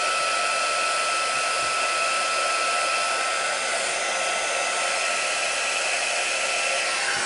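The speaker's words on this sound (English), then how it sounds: "we're going to heat up this heat gun." A heat gun runs continuously for card-making craft work, giving a steady, loud, broadband blowing hiss with no breaks, close by and alone, with no voices.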